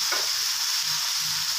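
Glass noodles being stir-fried in a wok with marinated pork and sausage give a steady, close sizzle with faint stirring scrapes, alone and without talk.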